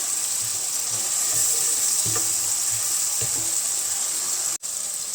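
Turmeric powder tipped into masala frying in a pan for taro root curry, giving a steady close sizzle throughout with a few soft stirring knocks and one sharp click near the end.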